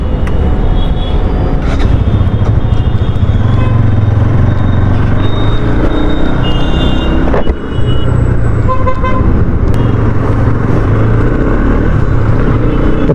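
A 2020 red Bajaj Pulsar NS200 motorcycle with a BS6 engine on a road test ride, its engine droning loudly and steadily amid wind and traffic, with passing horns tooting in the background.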